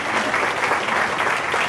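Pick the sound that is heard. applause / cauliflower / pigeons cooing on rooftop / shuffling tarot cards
applause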